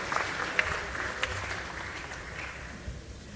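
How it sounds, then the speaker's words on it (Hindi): Audience applause at a national highway projects inauguration ceremony, welcoming a speaker to the dais: faint, distant clapping from a crowd, soft and steady with a few sharper claps standing out. "जोरदार तालियों से उनका अभिवादन,"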